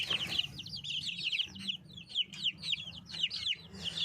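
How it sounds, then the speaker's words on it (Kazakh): Young chicks peeping in rapid, high-pitched bursts close by, with a low clucking from the mother hen underneath. "Міне осы балапандар."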